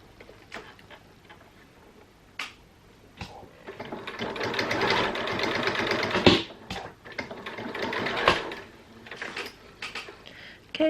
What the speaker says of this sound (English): I'm just going to sew this piece onto the dress here like this.